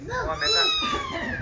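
A voice imitates a cat's meow, drawn-out wavering mews sung close up and fairly loud.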